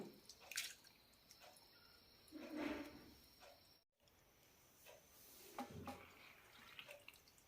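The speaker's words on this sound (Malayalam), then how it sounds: "വെള്ളം തെളിയുന്നവരെ കഴുകിയെടുക്കണം" Soaked moong dal is swished and rinsed in water, with soft sloshing and splashes in a few bursts, faint and close, with a brief pause midway.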